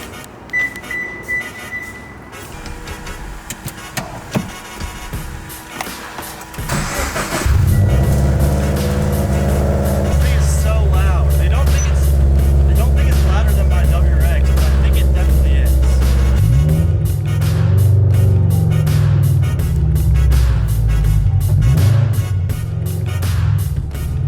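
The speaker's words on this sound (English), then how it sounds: "So I'm gonna take the BRZ on a little drive." A Subaru BRZ idles and then pulls away, its engine rising into a loud, steady drone that carries on for several seconds, with a brief beep early on before the engine takes over.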